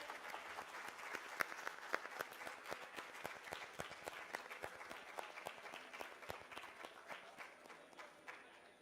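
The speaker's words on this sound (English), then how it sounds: "Let's continue with a round of applause," Audience applause at a university event honoring dignitaries, dense, steady clapping from a hall full of people that holds fairly even throughout, moderately distant and without voices.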